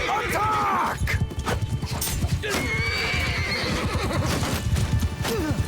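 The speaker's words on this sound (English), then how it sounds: "I can hear horses." Cavalry horses in the medieval battle game Mount & Blade II: Bannerlord neigh and whinny repeatedly over a busy din of hooves and clashing battle noise, with a voice talking over the chaos.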